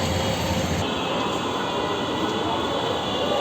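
A train rumbles loudly and continuously nearby, its wheels and carriages producing a steady roaring clatter with a high metallic whine.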